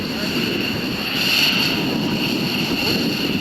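A fixed-wing aircraft taxiing past at an air show at Andrews AFB, a steady, loud engine drone with broad rushing noise and wind buffeting on the microphone, continuous throughout, with faint crowd voices underneath.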